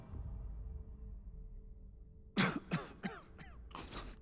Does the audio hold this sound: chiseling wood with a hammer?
no